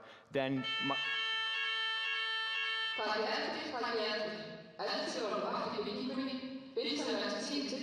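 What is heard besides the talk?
fire alarm going off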